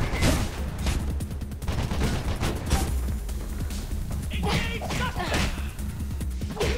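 Dense gunfire and impact hits from the first-person parkour game Mirror's Edge, busy and continuous with sharp bursts and crashes layered over game music throughout.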